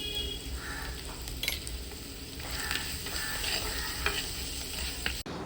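Onion, green chili and curry leaves being sautéed for a prawn masala curry, a continuous close sizzle with light scraping and clinks of a spoon against the pan throughout, no talking.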